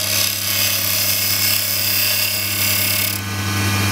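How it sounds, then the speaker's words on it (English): A wood gouge scrapes a wooden spinning top turning on a lathe, giving a steady close whirring hum with a faint rasping edge that brightens near the end. "Just use the bottom edge of the gouge in a sort of scraping action."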